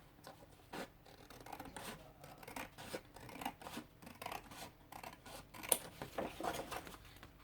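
Scissors snip through pieces of paper for an art journal page, a steady run of close, crisp cuts and rustles at a quiet level, with no voices.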